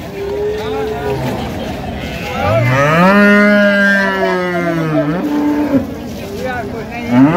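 Cattle at the Raniganj market in Dinajpur, where milk cows and calves are for sale, give a long, loud, drawn-out moo that rises and falls over several seconds with voices in the background.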